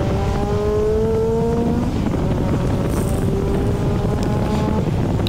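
A time attack car runs a lap on a race track, with a loud continuous engine drone and rising, falling gear tones under heavy wind buffeting throughout.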